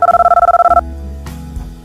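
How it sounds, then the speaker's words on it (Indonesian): A handphone rings with a rapid pulsing electronic tone and buzzing vibration in an Indonesian audio novel scene, loud and close for under a second, then low music continues. "handphone di tangannya bergetar, membuat mereka semua mengarah pada suara getarnya"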